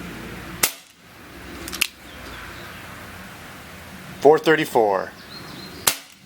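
An Umarex Smith & Wesson 327 TRR8 CO2 BB revolver fires single action with a fresh CO2 cartridge and steel BBs, four sharp cracks spaced a second or more apart, with someone briefly speaking between shots.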